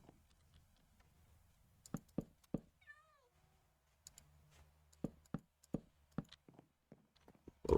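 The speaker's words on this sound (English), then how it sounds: "Making their little cat noises." Cats meowing in the video game Minecraft: a short run of high, wavering mews, with a few soft clicks and knocks before and after them.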